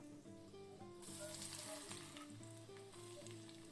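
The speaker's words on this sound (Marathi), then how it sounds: "कढईमध्ये तेल गरम करत ठेवलं होतं त्यामध्ये मी चार ते पाच लसूण पाकळ्या ठेचून घातल्या आहेत" Crushed garlic cloves frying in hot oil in a wok, a steady close sizzle that jumps louder and brighter about a second in as the cloves hit the oil, continuing alone with no talk.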